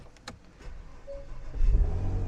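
A Porsche Macan is started with its starter mounted on the driver's side. A few faint clicks come first, then a low engine rumble swells and settles into a close, steady idle.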